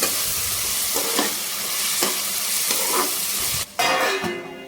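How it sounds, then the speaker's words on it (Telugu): Spinach curry with ginger garlic paste fries in a pan with a loud, steady sizzle, while a spoon scrapes through it in regular strokes about once a second, then a brief pause before the frying resumes. "ఇప్పుడు దీంట్లోకి 1 స్పూను అల్లం వెల్లుల్లి పేస్ట్ కూడా వేసుకోవాలి. ఇది వేసిన తర్వాత పచ్చివాసన పోయే వరకు దీన్ని అయితే బాగా కలుపుకోవాలి."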